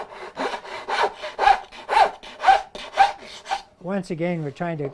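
Hand saw cutting through wood while shaping a song stick, making rhythmic back-and-forth rasping strokes, about eight evenly spaced, close and loud, then a voice speaks over the end.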